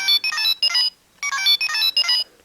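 A DX Faiz Phone X toy in phone mode plays an electronic ringtone, two groups of three short bright chirping trills with a pause between, clear and close.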